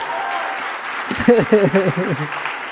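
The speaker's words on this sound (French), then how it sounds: "Vous pouvez applaudir." Brief crowd applause at a French political gathering, steady clapping under a voice speaking over it in the second half.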